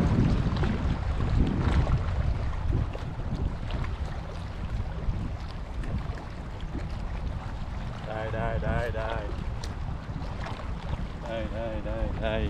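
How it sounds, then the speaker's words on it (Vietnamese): Strong wind buffets the microphone in a steady roar while fishing from a boat at sea off Japan, with water and hull noise underneath and no clear speech. "Tại hôm nay gió mạnh quá."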